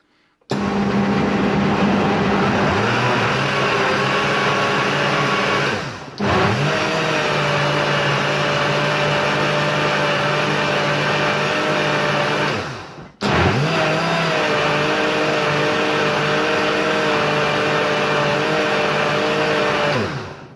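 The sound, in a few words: blender mixing a smoothie of radish tops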